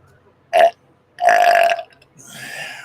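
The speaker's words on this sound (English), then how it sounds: "Good old orange soda burp." After a swig of orange Fanta soda, a person lets out two loud, close burps, a short one and then a longer rumbling one, followed by a breathy exhale.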